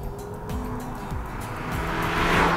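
A 2010 VW GTI's turbocharged engine accelerating hard, its steady growl building in loudness and pitch over a couple of seconds, with no voices.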